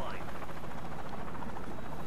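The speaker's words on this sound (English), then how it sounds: "Someone gets a chopper gunner." A chopper gunner helicopter in Modern Warfare 2 makes a steady, dense rotor roar that fills the whole moment, with game noise blended into the drone.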